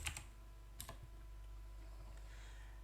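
A few crisp keystrokes on a computer keyboard, two short bursts of typing near the start and again around one second, then faint room hum; quiet, close and without speech.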